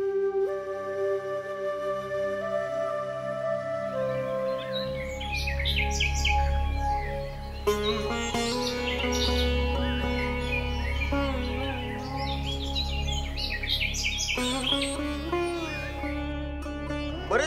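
Varied forest birds call and chirp in Nagzira forest, with overlapping whistled notes and trills over a low steady background hum.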